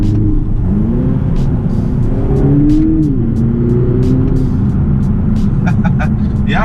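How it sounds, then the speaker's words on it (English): A BMW Z4 with a 2-litre four-cylinder turbo engine in sport mode gives a loud, low droning rumble from inside the cabin while rising and falling tones sweep through, with a few short sharp pops near the end. "I wonder if I can still hear that 2-litre 4-cylinder engine."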